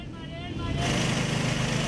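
Congested city traffic rumbles nearby, a low engine drone that grows louder partway through and stays steady to the end.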